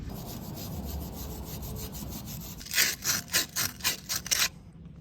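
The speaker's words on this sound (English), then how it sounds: "you just clean this out with a wire brush, a bit of sanding paper" A wire brush scrubs the trailing arm bushing seat of a BMW E36. A steady scraping hiss turns into about seven quick, rhythmic back-and-forth strokes near the end.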